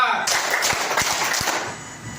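A group claps together in a rhythmic pattern of distinct claps at an academic coaching session. The claps are fairly close, with voices speaking through and after them.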